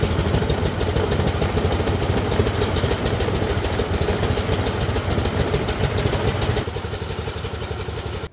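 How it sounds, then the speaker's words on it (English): A 1915 International Harvester motor truck engine runs steadily during a ride, its close, loud, even rhythmic chugging persisting throughout and easing slightly near the end. "this is a 1915 International Harvester motor truck"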